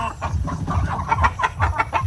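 Dongtao and Bresse chickens clucking in a farm coop, a busy chorus of repeated short clucks and murmurs close by with a low background rumble.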